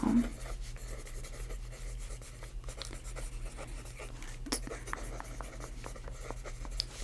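Pen writing notes on paper in a soft-spoken ASMR charisma-coaching roleplay, a steady close scratching and rubbing of the pen tip that runs throughout, with occasional small taps and no talking.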